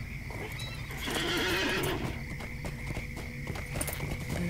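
Horse in Lord of the Rings Online whinnies loudly near the start, then its hooves clip-clop in a steady walking rhythm, close and clear.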